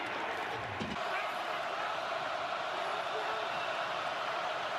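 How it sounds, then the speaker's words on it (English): Steady roar of a large stadium crowd at an NFL playoff football game between the Indianapolis Colts and Kansas City Chiefs, a dense continuous wash of noise with a brief thump near the start. "That crowd noise certainly helps."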